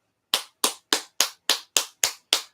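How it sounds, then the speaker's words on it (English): Eight crisp, evenly spaced hand claps from a single person ring out close and clear, a slow deliberate round of applause with silence between each. "Round of applause for that."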